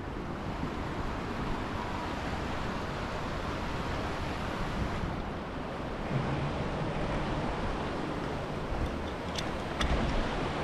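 River water flowing along a riverbank in Zermatt, a steady broadband rush of moving water heard close and continuous, with a slight swell near the end.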